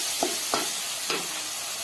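Potatoes with salt and chili frying in a pan for an eggplant and potato dish, a steady hiss with three scraping stirs of a spoon early on, close up and without speech.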